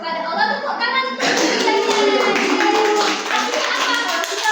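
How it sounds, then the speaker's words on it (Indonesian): A class of seventh-grade pupils in a religious-studies lesson breaks into loud, dense group clapping that runs steadily to the end, after a moment of children's voices at the start. "Tepuk tangan untuk"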